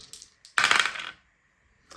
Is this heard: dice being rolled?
yes